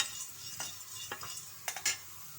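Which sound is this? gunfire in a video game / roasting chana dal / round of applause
roasting chana dal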